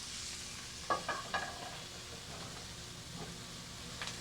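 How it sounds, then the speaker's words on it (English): Julienned hot peppers soften in a pan with a faint, low hiss of cooking, and a few quick utensil clinks stand out early on. "I'm going to break them down a little bit in the pan here."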